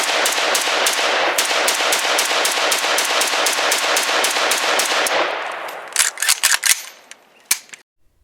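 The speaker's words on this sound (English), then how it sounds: "let's have another old shooting clip. SG553 carbine." A SIG SG553 carbine rifle fires a fast, loud, sustained burst of evenly spaced shots, then several scattered single shots and echoing cracks as the firing trails off.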